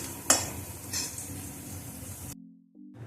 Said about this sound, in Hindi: इधर आप देख सकते हैं ये हमारे प्याज भी हल्के हल्के भुन चुके हैं